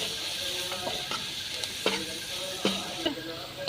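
Potatoes and okra with turmeric and garam masala sizzle in a frying pan as a spoon stirs them, giving a constant frying hiss punctuated by a handful of light scraping clicks, with no voice.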